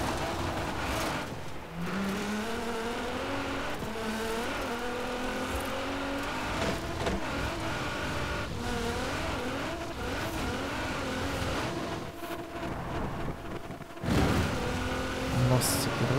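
A Nissan GT-R Black Edition drives in the Forza Horizon 4 racing game, its engine rising and falling through gear changes and revs under continuous talk in Portuguese, with occasional tire noise.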